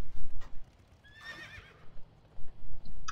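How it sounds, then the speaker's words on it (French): A pony in the World of Warcraft game gives a bright, wavering whinny in the middle, with repeated hoof clip-clops thudding before and after it in a steady trotting rhythm. "Le poney."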